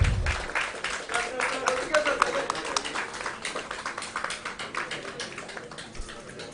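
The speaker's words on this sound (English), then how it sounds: "A bigger round of applause, please." Applause from a press club gathering marking an inauguration, dense and steady clapping from a crowd over several seconds, with voices mixed in.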